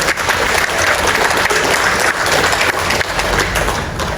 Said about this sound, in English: I'd like to give them a big round of applause for that.